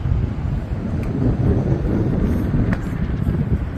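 At Grand Harbour in Valletta, Malta, at night, steady broadband wind rushes and buffets across the microphone, continuous and fairly loud, with a couple of faint brief clicks.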